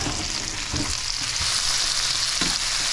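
Onion, tomato and habanero sizzle steadily in a hot pan for a Guyanese dried shrimp dish, a dense continuous frying crackle with a few soft stirring bumps.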